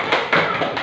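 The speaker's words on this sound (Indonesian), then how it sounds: "tepuk tangan untuk kelompok" Classroom applause for a student group after a presentation: a brief burst of clapping hands, close and busy, with a few louder claps standing out.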